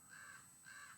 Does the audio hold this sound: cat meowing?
no